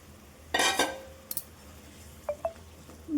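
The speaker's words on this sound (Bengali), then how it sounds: "মাছগুলো অ্যাড করে দিলাম।" Fish pieces slipped into a pan of simmering Bengali fish curry, giving a brief burst of splashing and sizzling, then a clink of a utensil against the pan and a couple of soft taps, heard close with no voices.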